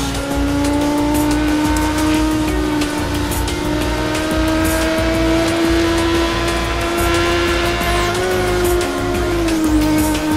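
Racing car in Burnout Paradise drifts through a turn, engine roaring steadily with a sustained tire squeal running through the whole stretch, loud and close, with no talk.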